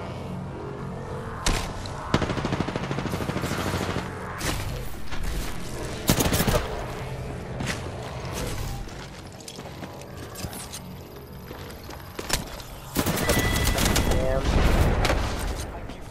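Rapid gunfire and impacts in the battle royale game Apex Legends, with dense overlapping shots running throughout and heavier bursts near the end, while a player talks over the action.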